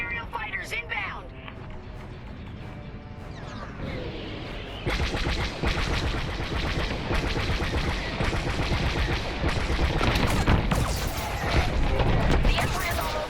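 Starfighter cannons in Star Wars: Squadrons blaze in loud, rapid, sustained bursts during a space dogfight, layered with booming impacts and dense battle noise, and a voice breaks in over the din.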